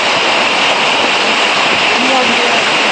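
Rushing river water pours past at a dangerous forest river crossing, a loud, steady broadband roar filling the whole clip, with a voice speaking over it.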